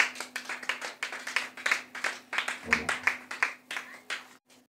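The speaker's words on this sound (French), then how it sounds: "On acclame le Seigneur Jésus-Christ" A church congregation applauds in rhythmic, evenly spaced bursts of clapping, loud and near, with a voice briefly heard partway through before the clapping stops abruptly at the end.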